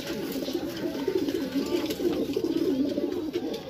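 Racing pigeons in a loft coo in a steady, low murmuring chorus that runs continuously throughout, close and moderately loud, with no other sounds standing out.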